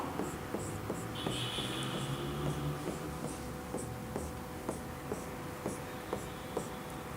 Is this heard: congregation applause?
no